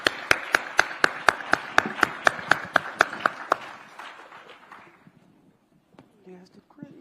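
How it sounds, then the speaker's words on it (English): Audience applause closing a conference panel: a burst of crisp, rapid hand claps that rings out loudly for about three and a half seconds, then thins and fades into quiet room murmur. "Let's give them a round of applause."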